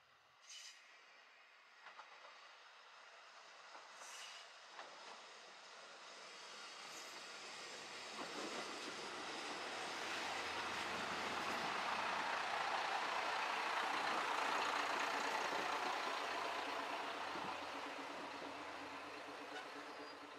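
A KiHa 54 diesel train, the Rapid Hanasaki on the Nemuro Line, approaches Higashi-Nemuro station from afar, its engine rumble and wheel noise swelling steadily louder to a peak before easing slightly, with faint scattered noises early on.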